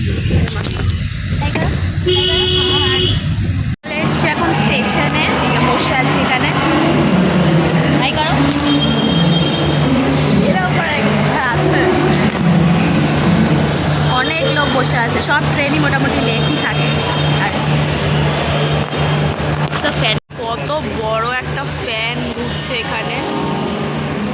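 Inside a moving cab, a steady engine and road rumble runs throughout, with a voice talking over it and two brief dropouts.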